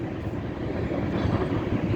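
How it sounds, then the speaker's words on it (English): A CP freight train passes in Weyburn, Saskatchewan, a continuous low rumbling roar of rolling wagons, steady and fairly close, with no voices. "That's the train."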